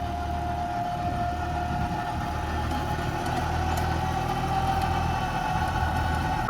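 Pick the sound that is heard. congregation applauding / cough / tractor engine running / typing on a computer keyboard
tractor engine running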